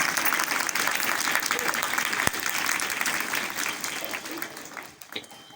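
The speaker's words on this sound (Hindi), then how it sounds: "जोरदार तालियां बजाओ।" Loud applause from school students at a yoga guru's talk, a dense continuous burst of clapping that holds strong, then thins and fades toward the end with a few scattered claps.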